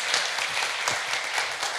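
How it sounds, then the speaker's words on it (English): Audience applause at a livestream event fills the room, a steady wash of many hands clapping with no break and no voices standing out. "Last applause, please."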